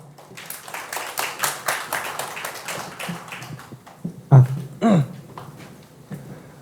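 Clapping from an audience welcoming a team leader at a Korean middle-school exhibition event, a scattered run of taps and claps with a few louder bumps, fairly soft throughout.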